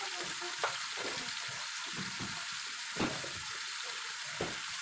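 Pasta fries in a pan until browned, a steady, fairly quiet sizzle with occasional stirring scrapes and clicks close by, no voices.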